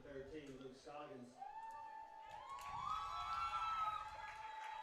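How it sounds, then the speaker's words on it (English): A home crowd at a high school playoff soccer game between Calvary Christian and Tallulah Falls gives a swelling cheer that holds steady in the background, beneath a voice speaking up front. "Gets a big cheer from the home faithful here tonight."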